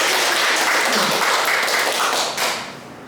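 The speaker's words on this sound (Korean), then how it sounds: "박수 한번 치겠습니다." An audience of teachers at a lecture claps together, a steady dense patter of hands that fills the room and then tapers off near the end.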